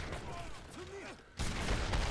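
A cannon fires in the real-time strategy game Age of Empires III, a sudden loud booming burst that rolls on amid battle noise, with a player talking around it.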